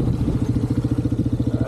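A Yamaha Big Bear 350 ATV engine chugs steadily nearby on a winter ride, its rapid, even low thumping pulses repeating without a break and no voices over it.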